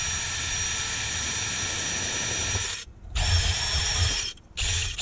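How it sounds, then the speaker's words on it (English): A wire brush spun by a power drill scours the hub area of a Peugeot 206, a loud, harsh whirring grind broken by two brief pauses as the trigger is released and pressed again. "clean that area up though with a nice wire brush on a drill"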